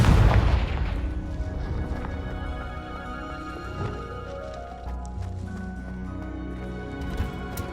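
A Confringo fire spell bursts in Hogwarts Legacy with a loud, deep boom up front, then a layered magical rumble and tonal shimmer trails off under game music over several seconds.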